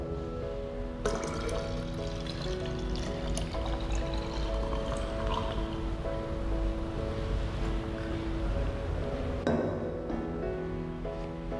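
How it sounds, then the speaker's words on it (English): Water poured from a jug into a 1 litre measuring cylinder makes a continuous splashing, gurgling stream, rising in pitch slightly as the cylinder fills, steady and close for about ten seconds with a brief change near the end. "We now pour this 400 milliliters into 1 liter measuring cylinder"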